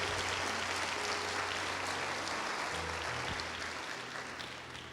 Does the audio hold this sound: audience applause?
yes